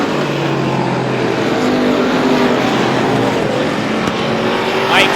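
Race cars roar around the oval at Star Speedway in a Strictly feature, a continuous dense engine drone with passing cars swelling and fading, loud and steady throughout.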